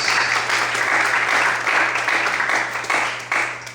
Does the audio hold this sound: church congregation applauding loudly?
yes